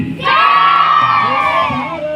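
A crowd at an MLA's village public-awareness rally roars with sustained, loud cheering and shouting that swells within a quarter second and holds steady for about two seconds.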